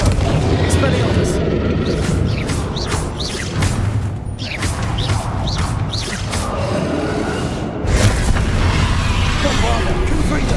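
Spell explosions from Bombarda and Confringo in Hogwarts Legacy, repeated booming blasts and crashes through a busy, loud combat mix, with voices shouting over the action.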